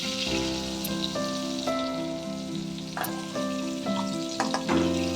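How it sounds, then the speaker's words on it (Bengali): Pointed gourd (potol) fries in a wok with a close, steady sizzle and crackle, punctuated by repeated spatula scrapes and a few sharp ticks, with no voices. "পটলটা আগে হালকা লাল করে ভেজে নেব"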